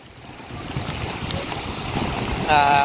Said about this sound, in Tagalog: Naitutulak ako ng hangin dito, no? Ay sa lakas ng hangin.